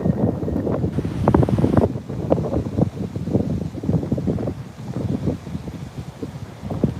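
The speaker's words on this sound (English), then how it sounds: "I love it when the waves break hard like that." Waves breaking hard on a beach, a continuous loud surf roar with repeated crashing bursts and gusty wind noise buffeting the microphone, with no voices.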